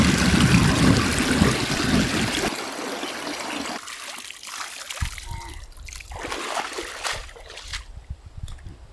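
Water splashing and trickling as fish is washed outdoors at the foot of a hill, with loud running-water noise at first, then quieter intermittent splashes and pours.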